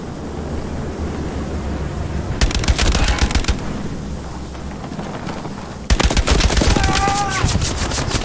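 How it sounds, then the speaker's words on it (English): Rapid bursts of gunfire from the Omaha Beach battle in the World War II shooter Hell Let Loose, loud and close, come in two long volleys with a steady rumble of battle noise in between. "There is a bolt action rifle close to us."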